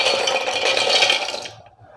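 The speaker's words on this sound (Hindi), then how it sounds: "अब हम ले लेंगे एक ग्राइंडिंग जार और इस जार में डाल देंगे हम काजू" Cashews tumble into a grinding jar with a brief rattling, clinking pour of nuts against the container, loud and close, fading out after about a second and a half.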